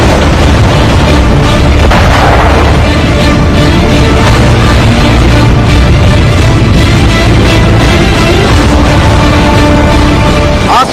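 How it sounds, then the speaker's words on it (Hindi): Bombs and tank shells burst and boom continuously, a loud dense barrage of explosions and rumbling with no pause. "जमीन पर फटते बम और टैंकों के गोले"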